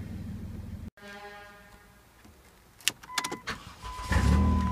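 A 2007 Dodge Grand Caravan with a 3.5-liter V6 gives a couple of short, fairly close horn honks after a quiet stretch of idle background, with no talking.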